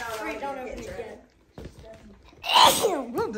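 A person sneezes sharply and loudly at close range during a Christmas Eve gift exchange, the burst coming after some indoor chatter and an excited exclamation.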